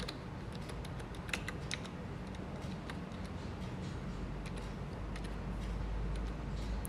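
Keys tapped on a computer keyboard while a password is entered at a login screen, a steady run of light, fairly close clicks over a low background hum.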